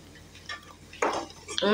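Spiced potato fry being stirred in an idli plate pan, with soft scraping and clinks of a spoon against metal that grow louder near the end, alone without talk.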